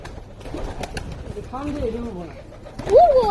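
Pigeon coos from a Shiraji pigeon pair rise in soft, wavering calls around the middle, then one louder, nearer call at the end, under someone talking throughout.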